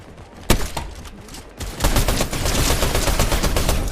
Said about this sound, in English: So somebody's over here shooting